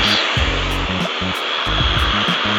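A blower clears debris off a concrete pickleball court being prepared for resurfacing, giving a loud steady close-up rushing whine with a pulsing low engine throb underneath, heard alone.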